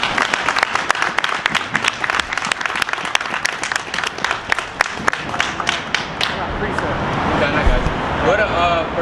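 A crowd at a street gathering breaks into sustained clapping and applause, dense overlapping hand claps with scattered shouts, steady and fairly close, swelling slightly near the end.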